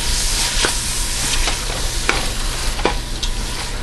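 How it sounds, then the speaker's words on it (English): Diced onion, celery and garlic sizzle in a soup pot over medium heat while a spoon stirs through them, a steady frying hiss punctuated by several scraping strokes. "Give that all a stir."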